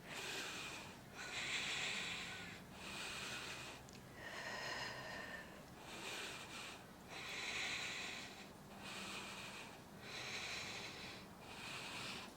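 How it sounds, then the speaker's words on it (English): During a yoga pose, slow deep breaths come in a steady cycle of about eight audible inhales and exhales, close and breathy, with no talking. "And breathing here for 10 breaths."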